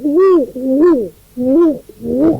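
A voice imitates the cooing call of a wood pigeon, giving four close, rhythmic, hooting phrases with a short pause before the last two, loud and near.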